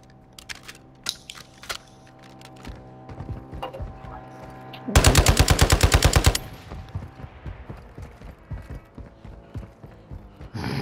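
Gunfire in a video game shooter: scattered single shots and taps give way to a loud, fast burst of rapid automatic fire lasting about a second and a half, followed by more sporadic nearby shots and clatter.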